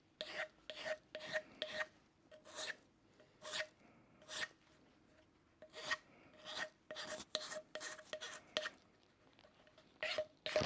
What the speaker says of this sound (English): I'm just going to take the burr off.